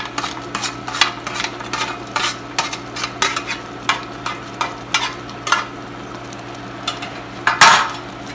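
Coconut burfi mixture with fried cashews is stirred in a pan in rhythmic, evenly spaced scraping strokes over a soft sizzle, with a sharper utensil clatter near the end.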